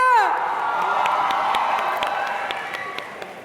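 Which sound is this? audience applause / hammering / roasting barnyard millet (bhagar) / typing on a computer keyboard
audience applause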